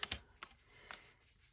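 Pieces of sewing tissue paper torn by hand: three quick, soft rips close by, the first two nearly back to back and the third after a short gap, then quiet rustling.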